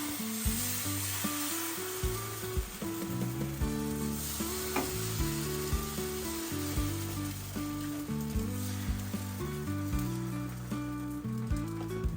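Rava dosa batter poured onto an oiled pan sizzles loudly and steadily, a dense crackling hiss that runs unbroken from start to end with no voices.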